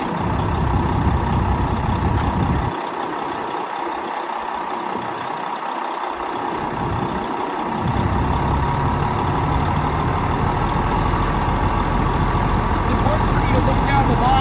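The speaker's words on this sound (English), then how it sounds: "I'm going to throttle up to 100 psi" A fire engine's pump throttling up to 100 psi during exterior pump-operator training: a loud, steady heavy diesel rumble that dips and swells in its low end before settling into a sustained drone.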